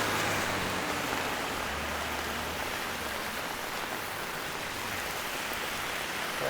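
Heavy rain pours down on a street at night in Toronto's Little Jamaica, a dense, steady hiss of drops hitting pavement that never lets up, with no voices.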